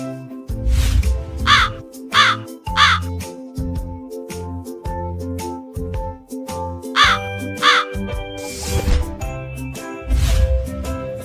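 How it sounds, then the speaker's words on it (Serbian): Raven cawing loudly, several harsh croaking calls spaced irregularly over a musical background, close and prominent. "Ovo je gavran, velika crna ptica sa sjajnim perjem. On ume glasno da grakće i veoma je pametan."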